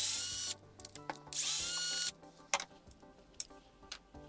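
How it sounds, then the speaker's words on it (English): Power drill driving temporary screws into a Kraton XL RC car, with two short whirring bursts, clicks and taps between them, and no talking. "we want to get some temporary screws in here so the rear differential housing stays in place"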